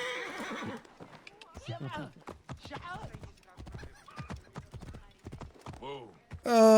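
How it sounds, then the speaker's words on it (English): Horse in Assassin's Creed Origins snorting and whinnying amid hoofbeats and game sounds, mostly beneath a person talking throughout, with a sharper, louder neigh bursting out at the very end. "Come on, horse."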